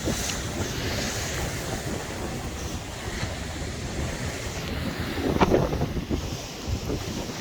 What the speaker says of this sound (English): The wind is swirling.